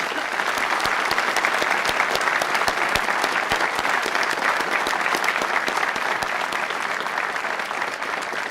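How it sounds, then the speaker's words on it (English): An audience at a fire-rescue academy graduation ceremony applauds the academy cadre, sustained dense clapping from a large crowd at moderate distance, steady and unbroken with no voices. "So please join me in applauding the hardworking members of our Academy cadre."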